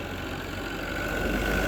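An old tractor engine idles steadily at a distance, a low continuous rumble with a faint whine, used for pushing snow.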